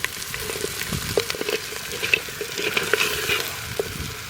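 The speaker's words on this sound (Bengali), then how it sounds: "সুন্দর কষানো হয়েছে কিনা" Mutton leg pieces sautéed and stirred in a pan over a village cooking fire, a loud, close sizzle with frequent scraping and clinking of the spoon against the pan, no voices.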